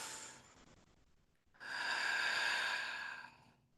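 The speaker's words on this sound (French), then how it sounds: "je vous invite à vous déposer, à prendre une grande respiration" A single deep breath is drawn in and let out slowly, a soft, close airy rush lasting nearly two seconds after a fainter breath, with no talk.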